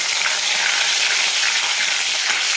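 Crushed garlic cloves and a piece of ginger fry in hot oil for a spicy potato and white pea curry, giving a steady, loud, close sizzle throughout with no talking.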